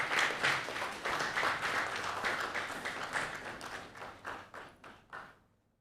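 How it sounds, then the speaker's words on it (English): Applause from a business breakfast meeting audience welcoming a speaker, steady at first, then thinning into scattered individual claps and fading out to silence. "Let's welcome Adoma Pepra with a round of applause."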